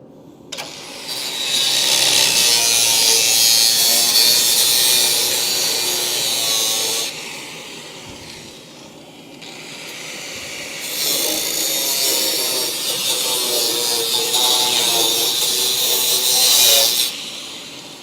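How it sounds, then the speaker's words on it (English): A power tool cutting through the rusty body of an old Dodge Charger crew cab along the pinch weld, a harsh, loud grinding rasp in two long passes with a quieter pause between them. "So I'm trying to cut along the pinch weld."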